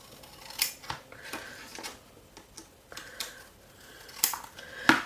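Scissors snip quietly several times at an uneven pace, small metallic clicks close up in a quiet room.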